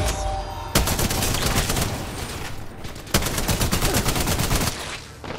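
Video game gunfire, a loud sustained rapid automatic fire in long bursts with brief pauses between them, close and dense.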